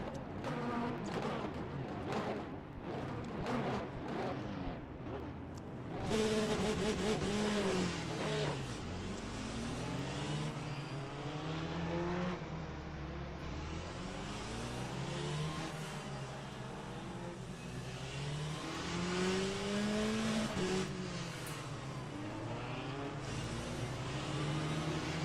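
Race car engines on a formation lap in the racing sim Le Mans Ultimate, a steady layered drone of several motors rising and falling in pitch as they accelerate and shift, continuous throughout.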